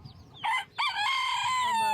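Backyard chickens snacking in the morning: a short squawking cluck, then a loud, close, drawn-out rooster crow that rings for about a second.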